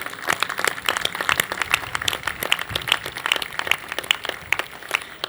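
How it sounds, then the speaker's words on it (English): A crowd claps steadily at a groundbreaking ceremony, sharp overlapping hand claps forming continuous applause at a fairly loud, even level. "Please clap it up for these great folks."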